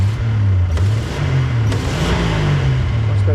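A Jeep CJ7's carbureted engine revs loudly and close up with quick throttle blips, a rough low exhaust note rising and falling over a few seconds, with a couple of sharp pops.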